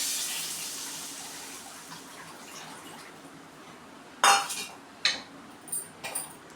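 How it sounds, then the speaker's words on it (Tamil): A broad wash of tamarind water poured into a pot of kara kuzhambu, steady and close at first, then easing off, followed by a few sharp clinks of a utensil against the pot. "அந்த தண்ணியை ஊற்றிக்கலாம்."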